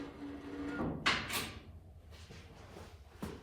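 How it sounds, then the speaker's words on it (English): On a Rock Island Heider Model D 9-16 tractor, the motor slides along its mount to the fastest position, giving a close metallic scraping slide with a sharp knock in the middle and another clunk near the end. "I'll slide the motor back to the fastest position."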